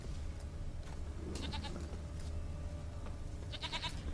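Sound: goat bleating in the video game The Witcher 3

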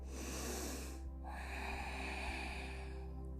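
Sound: breathing during yoga

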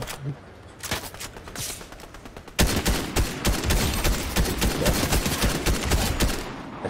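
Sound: gunfire from AI enemies in the video game Fortnite

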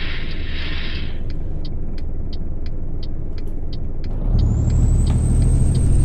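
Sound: truck engine pulling away in twelfth gear, Euro Truck Simulator 2 video game

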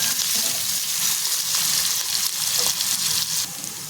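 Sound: chopped onion and crushed garlic sautéing in a pan

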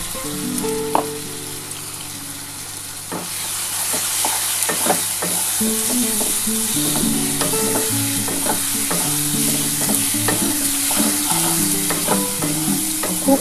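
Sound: sautéing fish with mustard paste in a pan

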